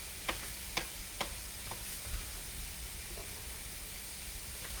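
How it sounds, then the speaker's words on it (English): Onion added to a hot cooking pan, a steady sizzling hiss with a few faint sharp ticks and clinks near the start, quiet and continuous, with no talk. "now I'm going to put some onion in there"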